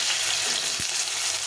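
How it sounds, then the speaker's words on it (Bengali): Potatoes frying in hot oil in a pan give a loud, steady sizzle, broken once by a brief low knock as they are stirred. "তেলটা গরম হয়ে গেছে, এখন আলুটাকে একটু ভেজে নেব।"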